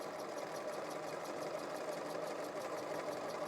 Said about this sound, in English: I'm gonna serge the whole thing in flat because I think it's gonna look better serged